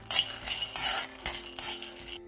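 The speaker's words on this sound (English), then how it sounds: "Now this has to be roasted till they become, till they change the color." Drumstick leaves being stirred and roasted in a pan for Andhra-style dal and podi, with repeated scraping bursts of a spoon against the metal pan at an uneven rhythm, close and fairly loud.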